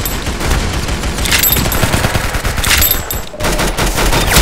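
Rapid video-game gunfire rattles loudly and continuously, bursts of automatic fire with sharp cracks, briefly dropping out near the end before resuming, with no talking.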